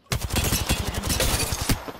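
Rapid bursts of gunfire from an Apex Legends firefight, dense overlapping shots in quick succession, loud and close throughout with a sharp crack near the end.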